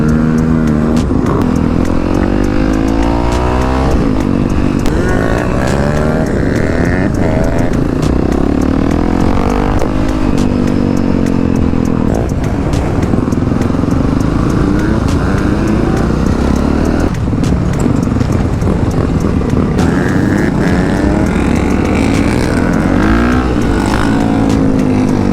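Yamaha YZ450F and Honda CRF450R dirt bikes drag race at a rideout, their engines roaring loud and close the whole time, revving and pulling hard through gear changes without a break.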